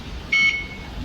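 A single short electronic beep rings out clearly over quiet background noise as a Singapore transit card reader accepts a tap.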